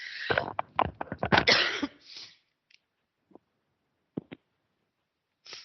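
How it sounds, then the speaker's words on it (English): A person coughs hard several times in a rapid cluster, then a few quieter throat sounds follow after a pause. "Excuse me, I have to cough."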